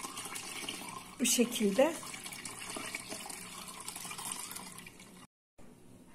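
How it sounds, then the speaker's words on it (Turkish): Boiled milk poured through a strainer makes a short, near splash of running liquid early on, amid a quiet kitchen and a few spoken words. "Evet arkadaşlar, kaynattığımız sütü şimdi şöyle süzdürüyoruz."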